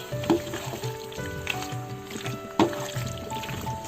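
Macaroni mixed with sliced processed cheese in a pumpkin sauce, a thick, wet stirring and squelching in a pot with a couple of louder utensil knocks, close and without speech.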